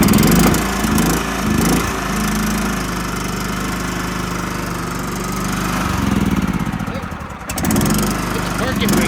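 A 2007 John Deere L110 lawn tractor engine starting cold after priming, running loud and steady with a rough, rumbling drone, a brief dip near the end before it picks back up; a voice talks over it.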